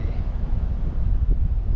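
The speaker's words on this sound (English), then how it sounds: "Sorry that it's heap windy." Strong wind buffeting a microphone outdoors during a road trip, a continuous low rumbling roar with gusty swells throughout, no talk.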